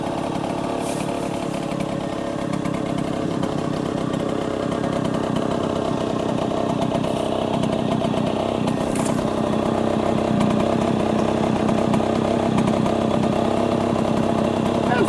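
A steady, rumbling engine of a 1966 Harley-Davidson Aermacchi M50S motorcycle idles continuously at close range, loud and unbroken throughout.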